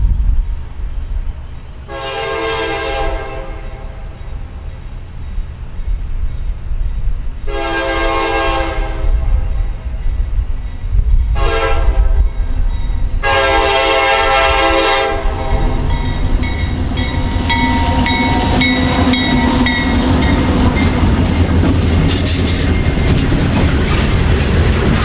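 A loaded CSX freight train carrying wet rock sounds its horn in a long, long, short, long pattern, then rolls past close by with a loud, continuous rumble and clattering wheels.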